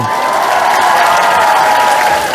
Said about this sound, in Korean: 재밌으면 박수 한번.